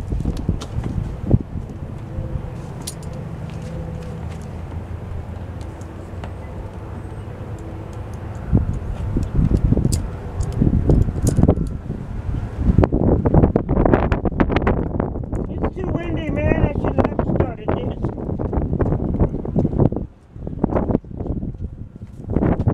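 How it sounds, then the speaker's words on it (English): Gusty outdoor wind buffets the microphone with a rough, rumbling roar during work repainting a pink van's side mirrors and wheels, growing louder and busier partway through and continuing without a break. "Wind is like blowing all over the place."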